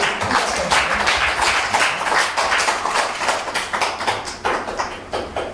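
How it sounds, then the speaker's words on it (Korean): Audience applause at a Korean youth seminar hall, a steady patter of many hands clapping at moderate volume, fairly light and thin throughout, with faint voices mixed in beneath. "박수 소리가 작아가지고 조금 더 긴장할 것 같아요"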